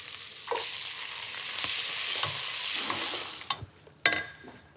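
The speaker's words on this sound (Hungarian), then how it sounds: "És jöhet hozzá a friss paradicsom." Fresh tomatoes go into a hot pan of sauce for stuffed peppers with celery-tomato sauce, giving a steady sizzling hiss with a few clanks and scrapes from stirring, no talk over it.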